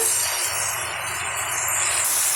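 Fresh coriander and vallarai greens sautéing in a pan with mashed tomato for a chutney, giving a steady soft hiss and sizzle throughout, close and continuous with no talking.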